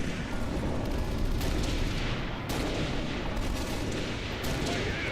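Dense battle rifle fire in Halo: Reach, repeated sharp shots and booms over continuous loud combat noise, with faint voices in the mix.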